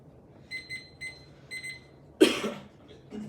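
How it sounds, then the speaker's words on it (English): A debate timer alarm beeps during a high school debate round, with a few short, evenly spaced electronic beep pairs, followed by a louder noisy burst like a cough or handling noise near the mic. "my timer just popped out"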